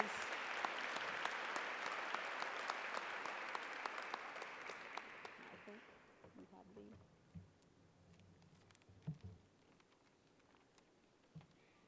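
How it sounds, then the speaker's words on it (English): An audience at a school academic excellence awards ceremony applauds its nominees, a dense wash of clapping that stays full for about six seconds and then thins to scattered claps and faint voices. "Please give another round of applause to our nominees"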